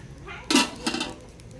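A metal pot lid clanks onto a pot of boiling water used for blanching cockles, one sharp clatter followed by a softer second clink, with quiet kitchen background.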